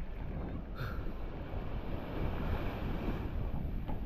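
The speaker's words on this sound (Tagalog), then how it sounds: "laki ng alon oh" Big ocean waves roll and crash in a continuous wash of surf, with wind gusting across the microphone.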